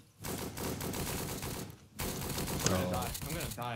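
Rapid automatic gunfire in the survival shooter Apocalypse Rising 2, loud dense bursts of shots in two volleys split by a brief pause, with a voice speaking over the second half.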